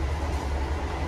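A steady, loud rumble and rattle from the Argo Lawu executive train running on the rails between Solo and Yogyakarta, heard from inside the carriage with no break and no voices.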